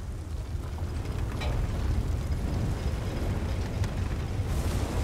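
A roaring fire in Elder Scrolls Online burns with a steady, low, rumbling whoosh, constant and fairly loud, with faint crackles and no voices.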